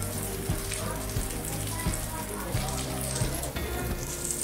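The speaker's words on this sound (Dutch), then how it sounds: "we hebben regen in Tallinn." Steady rain patters and hisses on a surface close by in Tallinn, Estonia, on a sailing trip, with occasional heavier drops tapping through the constant wash.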